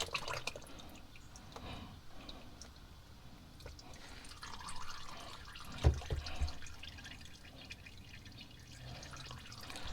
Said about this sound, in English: You can let it drip for a while